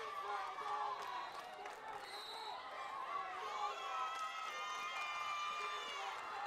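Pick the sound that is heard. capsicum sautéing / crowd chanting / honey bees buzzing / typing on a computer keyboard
crowd chanting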